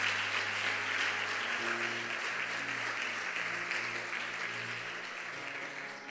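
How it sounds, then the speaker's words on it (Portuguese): A church congregation applauding during a worship service, steady dense clapping filling the whole stretch at a moderate distance, with faint voices and a low sustained musical hum underneath. "Vamos aplaudir Jesus?"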